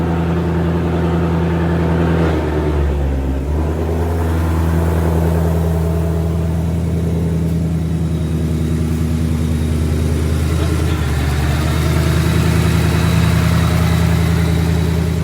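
A 2020 Ford Shelby GT500 V8 runs steadily at idle, loud and close, with a brief rev burst near the start before it settles back into a deep, even rumble.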